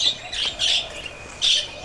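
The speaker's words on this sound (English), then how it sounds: "So, basically, you've got aviary, outside heater, budgies, Peter's cage," Pet budgies chirp in an outdoor aviary, a few short bright calls in quick succession, fairly close and clear against quiet surroundings.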